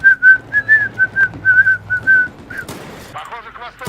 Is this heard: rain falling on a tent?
no